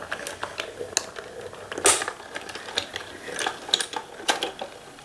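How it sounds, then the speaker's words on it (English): A Gemini Mini die-cutting machine runs a die and folder through its rollers, giving a steady stream of small mechanical clicks and ratcheting ticks with one louder burst midway, close and unaccompanied by talk. "All you need to run a die through the Gemini Mini is a folder, which is nice."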